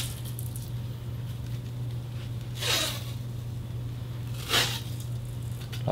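Tape being wrapped onto a hockey goalie stick, heard as two distinct ripping pulls a couple of seconds apart over a steady low electrical hum.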